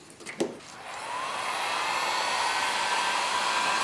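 A heat gun warms vinyl wrap on a car fender. A few soft handling taps come first, then the gun's steady blowing roar and whine sound close and even until the end.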